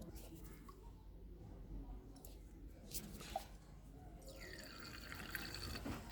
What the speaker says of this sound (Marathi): ह्या गळतीमध्ये मी पाणी टाकलेलं आहे